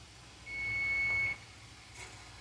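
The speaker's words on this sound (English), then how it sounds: "The timer is about to go off, y'all." A kitchen timer gives a single steady beep of under a second in a quiet kitchen while purple hull jelly is being canned; no voices accompany it.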